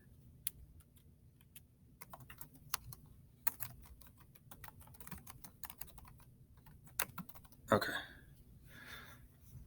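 A computer keyboard is tapped in quick, uneven bursts of sharp clicks, close and quiet, with a brief spoken word near the end.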